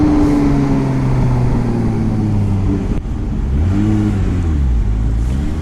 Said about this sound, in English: As you can hear there, it has the auto blip.